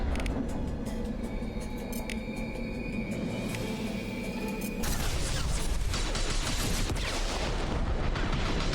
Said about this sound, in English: They like rocket launchers.